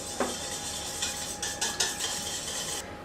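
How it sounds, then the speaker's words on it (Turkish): A whole egg, half a tea glass of vegetable oil and a glass of milk being whisked together in a bowl, giving a soft, steady scraping swish broken by a few sharp clinks against the side. "1 adet yumurta bütün halde, yarım çay bardağı sıvı yağ ve 1 çay bardağı süte ihtiyacımız var. Bunları güzelce çırpıyorum."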